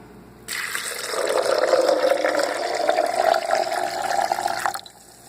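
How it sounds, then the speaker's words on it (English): Water pours steadily into a blender jar holding soybeans, a continuous splashing fill that runs for several seconds and then stops abruptly. "now I'm going to add the water."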